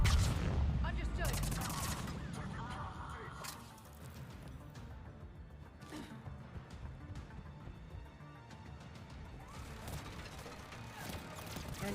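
Turret gunfire in Mass Effect 3, dense bursts of shots mixed with explosions and clatter, loud and continuous over the whole stretch with a faint voice underneath.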